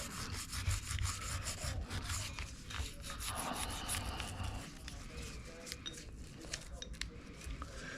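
A brush scrubs the small parts of a Sig Sauer P365 pistol during cleaning, a close, fairly quiet, rapid back-and-forth bristle rasping that continues in uneven strokes for several seconds with no talking.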